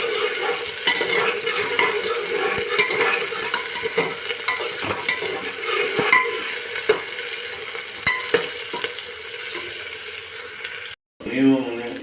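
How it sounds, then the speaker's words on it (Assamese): Onions for mutton gravy sizzle steadily in a pan while a utensil stirs and scrapes them at close range, making repeated clicks. The frying breaks off briefly near the end, then resumes. "এতিয়া এয়া দেখিব পাইছে, ভালকৈ পিঁয়াজটো ভাজা হৈ গ'ল।"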